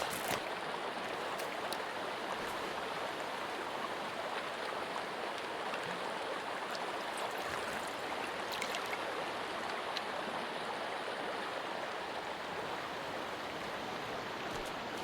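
Steady rushing water of a waterfall in the Sons of the Forest video game, a continuous broadband roar filling the whole clip without pause and no talk.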